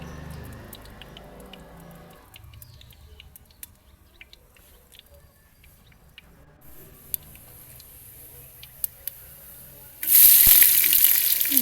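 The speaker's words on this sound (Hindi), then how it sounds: "यहाँ पर प्याज डाल दिए हैं मैंने और थोड़ी देर फ्राई करने के बाद" Onions frying in a pan for a pumpkin curry, a soft, continuous sizzle with faint clicks and stirring, swelling abruptly into a much louder, hissing burst near the end.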